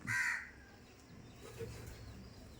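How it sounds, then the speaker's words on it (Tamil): A single loud crow caw opens, followed by fainter, more distant cawing and faint background noise. "எப்படி காக்கான்னு பாருங்கள்."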